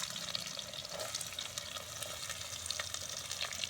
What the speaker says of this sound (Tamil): கருவேப்பிலை இது நல்லா வதங்கட்டும்